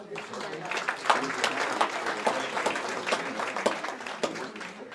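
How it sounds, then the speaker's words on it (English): Audience applause fills the room at a college president's gala and chef of the year dinner, a dense, steady clapping from a large crowd lasting throughout, with some voices mixed in. "let's give him a round of applause here"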